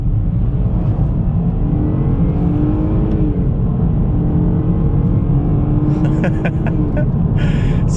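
Inside a 2017 BMW 2 Series coupe, the three-cylinder engine pulls hard in second gear in Sport Plus mode, a loud, steady drone rising in pitch, with some clicking noises near the end.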